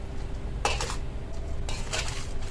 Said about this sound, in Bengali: হলুদ গুঁড়ো আর লবণ অল্প পরিমাণে দিয়ে ভালো করে মিশিয়ে